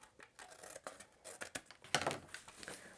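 Scissors snipping through cardstock or paper while trimming a file folder mini album page, a few short crisp cuts with light rustling, close and fairly quiet, with no voices.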